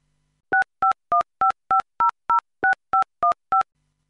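A quick run of eleven short, evenly spaced dialing tones, clear and close, with near silence before and after.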